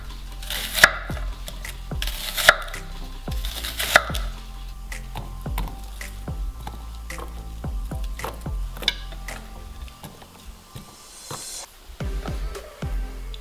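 Knife chopping an onion into rings on a board, a brisk run of sharp, close taps with a few louder strikes, alone with no talk.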